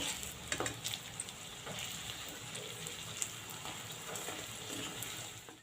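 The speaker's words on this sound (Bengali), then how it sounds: "আমার উল্টে পাল্টে লাল লাল করে ভাজা হয়ে গেছে।" Potato pieces sizzle and crackle steadily in hot oil, with occasional scraping clicks as they are turned, a close, continuous frying hiss throughout.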